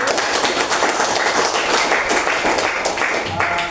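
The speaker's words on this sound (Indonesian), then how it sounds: "Tepuk tangan untuk kita semua." Students in a classroom applaud together at the close of a lesson, a sustained, busy clatter of many hands throughout, with some voices mixed in.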